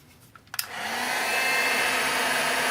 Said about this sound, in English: I'm going to just heat this with the heat tool